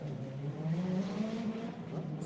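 Stripped-out Vauxhall Corsa drag car launching hard, its engine held at a loud, steady high-revving drone that climbs slightly and then eases, close and continuous with no talk.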